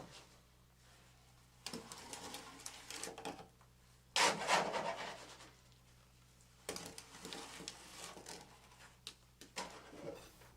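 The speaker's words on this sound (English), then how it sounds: "moving the scoop around the perimeter." A scoop places fresh concrete into a slump test cone, working around its perimeter, heard as several close, gritty scraping and rasping strokes separated by quiet pauses.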